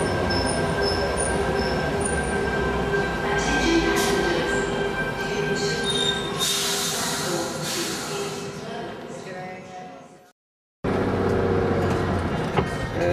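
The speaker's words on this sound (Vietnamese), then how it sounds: "Chiếc xe lửa này đi về Bang Town." A train at a station platform, bound for Bang Town, rumbles and hisses steadily with rail squeal and clatter, fairly loud and close, while people talk nearby; it cuts out briefly near the end, then resumes.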